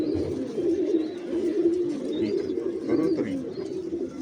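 Reshami pigeons cooing steadily in a low, soft rumble, close by, with faint chirps and background noise throughout.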